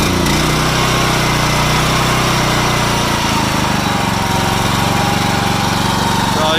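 A small petrol engine on a Faymonville Megamax trailer hydraulic unit starts and runs loud and steady, with a constant close buzzing drone that rises slightly in pitch partway through.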